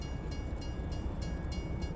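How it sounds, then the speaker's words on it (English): Train rolling past in Farming Simulator 22, a steady low rumble with faint evenly spaced clacks repeating about every third of a second, heard alone at moderate level. "Ooh, the train just went through."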